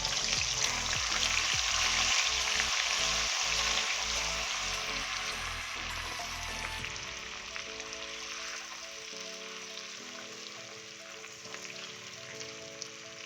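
Garlic ginger paste frying in hot oil in a wok over a low flame, a steady close sizzle and crackle that eases and grows quieter partway through, with no talking.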